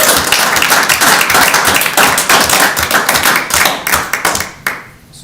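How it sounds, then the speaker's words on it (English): A room of attendees at a school board retreat claps for district staff, a loud, dense round of applause that holds steady for several seconds before thinning out and stopping. "I want to give a big round of applause to staff and Garrett"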